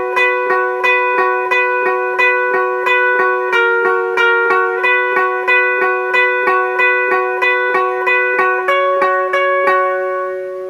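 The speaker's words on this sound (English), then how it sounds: "And the lead part over the bridge sounds like this." A clean guitar plays the lead part over the bridge of a song: single picked notes ring out in an even, steady pulse, close and clear, with the melody shifting near the end.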